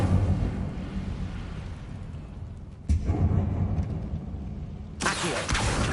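An Incendio fire spell bursts in Hogwarts Legacy, a short blast followed by another sharp burst a couple of seconds later over low rumbling game ambience.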